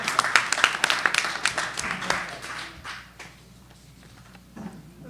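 Applause at a town council meeting for Girl Scouts Troop 201, a short burst of sharp, scattered claps from a modest crowd that quickly fades into room noise.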